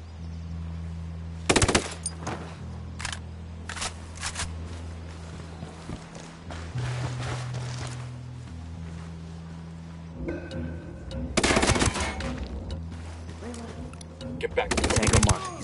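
Submachine gun fire rings out in Ghost Recon Wildlands, with several sharp rapid bursts spread through the scene over a low ambient drone, some fairly loud and near, while game voices talk in between.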